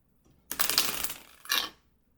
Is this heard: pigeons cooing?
no